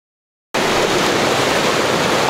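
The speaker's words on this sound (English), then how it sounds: "What I'm trying to do now is get this little cascade right in the foreground" A small water cascade in a landscape setting starts abruptly after a brief silence, then rushes on as a loud, steady, close wash of broadband noise.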